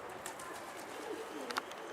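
Pigeons heard outdoors around a rooftop loft, with faint cooing and soft calls over low ambient noise and a few brief chirps.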